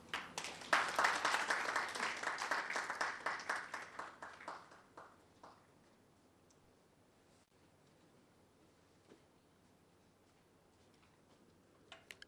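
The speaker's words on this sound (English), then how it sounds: "Another round of applause, ladies and gentlemen" Applause from the audience at a National Science and Maths Quiz balloting ceremony in Ghana: a crowd claps briskly for a few seconds, tapers off, then gives way to a quiet, near-silent room with scattered small knocks.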